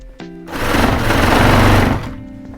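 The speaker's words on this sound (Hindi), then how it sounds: "ये मैंने उल्टी तरह से रख के सिलाई लगा ली है।" A sewing machine stitches a cuff sleeve in one loud, close burst of rapid whirring that runs about a second and a half, then winds down to a low hum.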